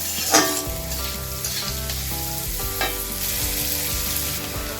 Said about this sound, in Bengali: তো দেখুন বন্ধুরা মসুর ডাল ভাজা হয়ে গেছে